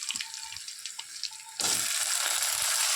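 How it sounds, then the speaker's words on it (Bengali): Onions fry in oil. A quiet sizzle with a few faint clinks swells suddenly partway through into a loud, dense, steady hiss that holds to the end, with no talking. "পেঁয়াজটা দিয়ে দিয়েছি, লাল লাল করে পেঁয়াজটাকে ভেজে নেব।"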